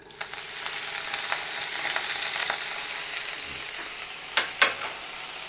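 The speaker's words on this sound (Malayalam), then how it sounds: "നമ്മൾ നേരത്തെ കഴുകി വെച്ച ചെറുതായി കട്ട് ചെയ്ത വാഴക്കൂമ്പ് നമ്മളിതിലേക്ക് ആഡ് ചെയ്യാം" Washed, finely chopped banana flower hits a hot pan on a low flame for a stir fry, giving a continuous close sizzle with a couple of brief utensil clatters near the end.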